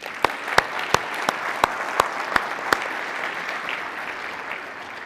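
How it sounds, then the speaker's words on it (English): Sparse applause from a conference keynote audience, a few distinct loud claps standing out over a soft, thinning patter of hands that fades within a few seconds. "maybe just a nice round of applause for Kim Hands, Kaylin Swindle, and Richard Snow for the training"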